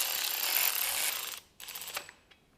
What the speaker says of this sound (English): We can use the electric ratchet to slowly drive them in.